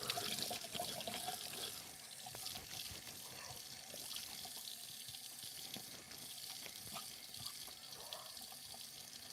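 A bathroom tap runs into a sink while someone washes their face with warm water, a continuous splashing stream with small drips and spatters, fairly close and without talk.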